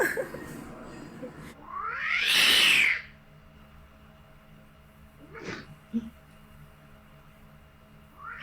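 A cat lets out a single loud, drawn-out yowling meow close by, followed by quieter rustles and faint thuds in an otherwise still room.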